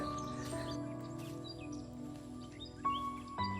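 Faint bird chirps and tweets scattered over a steady low hum, with a couple of louder thumps near the end.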